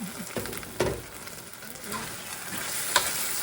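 Vegetables stir-fried in a pan for Malaysian fried vermicelli with shrimp make a soft, steady sizzle broken by several scraping stirs of a utensil, with one sharper clink near the end.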